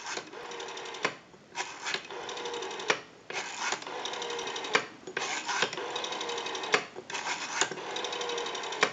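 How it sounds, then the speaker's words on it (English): The rotary dial of a Radio Shack Bonnie & Clyde 43-321 candlestick telephone, under repair, spins back with close, rapid clicking bursts. Several returns follow one another with short pauses between them. "We have a nice smooth return on our rotary dial now."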